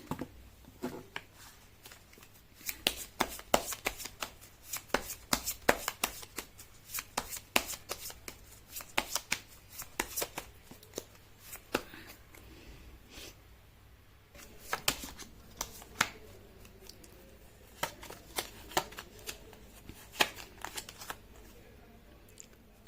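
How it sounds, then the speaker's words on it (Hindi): Tarot cards being shuffled by hand in a steady run of crisp riffling and slapping bursts, close and fairly quiet, with no talking over it. "मैं कर लेती हूँ कार्ड की शफलिंग।"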